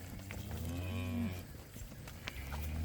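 A cow on late summer grass pasture gives a single drawn-out moo lasting about a second, fairly close and clear against quiet outdoor background.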